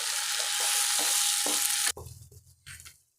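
Onion and tomato sautéing with salt in a pan give a loud, close, continuous sizzle with rhythmic stirring scrapes, which cuts off abruptly and leaves quieter scraping and pan noises.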